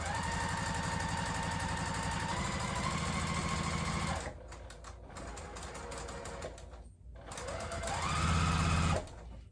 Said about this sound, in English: Then we'll just start right at that 1/4 inch and just sew right on along.